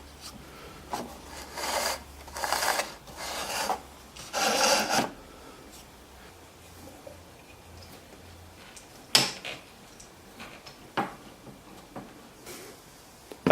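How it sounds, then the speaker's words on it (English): Belt sander working wood strips into dowels, with several bursts of rasping, rubbing abrasion between quieter gaps and a few sharp knocks toward the end, close and fairly loud. "it sits freely on the sander by itself because I've let the sander run through and notch a small piece out"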